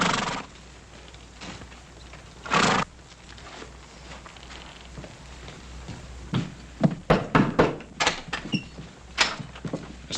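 Horses of a cavalry detail arrive in an Old West setting, hooves clopping in a rising cluster of close thuds with a sharp whinny early on.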